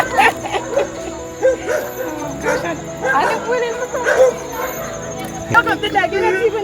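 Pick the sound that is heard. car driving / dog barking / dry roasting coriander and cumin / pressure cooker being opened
dog barking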